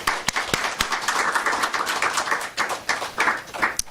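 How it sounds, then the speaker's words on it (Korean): A small church congregation claps during a Sunday worship service: scattered, fairly quiet handclaps with sharp individual strikes standing out from a loose, uneven patter. "박수 한번 쳐주실래요?"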